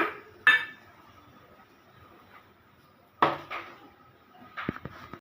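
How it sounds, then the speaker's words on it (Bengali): A couple of sharp metallic clanks as a wok is set down on a stove, followed by quiet gaps and a few lighter knocks. "এবার আমি গ্যাস ধরিয়ে কড়াইটা বসিয়ে দিচ্ছি"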